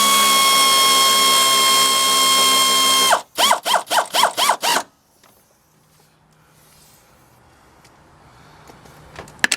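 Air-powered tool running bolts into a water pump on a Chevy Tahoe: a loud steady whine for about three seconds, then six short rapid bursts of the tool, followed by quiet shop background.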